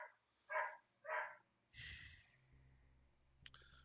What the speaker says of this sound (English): the dog is going ballistic in the background